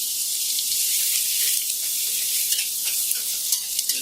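Diced white onion and corn kernels sizzling in butter in a pan, a steady bright frying hiss with occasional small crackles, no talking.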